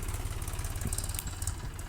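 Low, chugging tractor engine idling close by, a steady rhythmic thump with no speech.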